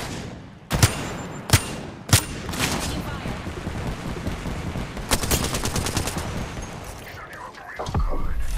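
Sharp single gunshots ring out in Apex Legends, three spaced cracks followed by a rapid automatic burst, all over a constant busy battle din, loud and close.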